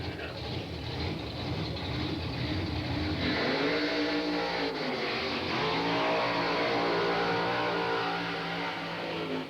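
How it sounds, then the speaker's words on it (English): Drag racing cars at the 1983 Englishtown Springnationals roaring through burnouts, a dense, sustained engine blare with rising pitch sweeps, heard from the stands with faint talk underneath. "they do their burnouts there and get their front wheels 13 feet up"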